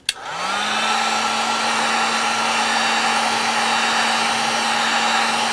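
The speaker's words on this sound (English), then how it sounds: "I'm using low on this heat gun" A heat gun on its low setting warms a snow brush to lift stickers, starting with a click and then a steady, loud blowing whoosh with a constant motor hum, no talk.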